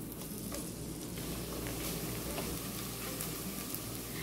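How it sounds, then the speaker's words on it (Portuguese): Medium onion and three garlic cloves frying in a pan, a steady, dense sizzle with soft crackle holding at an even level throughout, no voices. "a cebola e o alho, uma cebola média e 3 dentes de alho. Vai deixar dourar."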